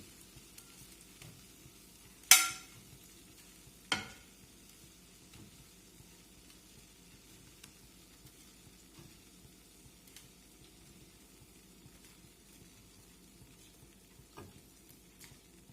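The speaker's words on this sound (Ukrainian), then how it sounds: "Даю більший газ і смажимо далі" Potatoes sizzle faintly in hot oil for a long stretch, with two sharp clatters of utensils near the start and no voices.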